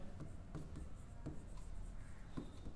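Steady scratching of a pen or chalk writing on a surface during a school English lesson, a continuous dry rubbing with small strokes, close and fairly quiet, with no voices.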